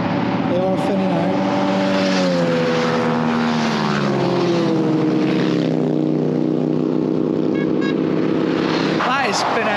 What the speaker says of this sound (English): The sound of the bikes is just amazing.